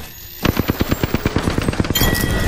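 Rapid automatic gunfire in the video game Apex Legends: a fast, evenly spaced burst of loud shots, close and continuous, with no voices.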